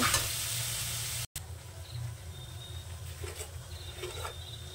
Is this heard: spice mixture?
yes